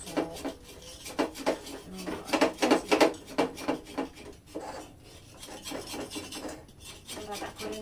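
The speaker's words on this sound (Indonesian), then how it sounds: "Matang ini tak susuk dulu." Srabi pancake scraped out of a pan with a utensil, a series of close rasping scrapes, loudest in a quick burst near the middle, then softer rubbing.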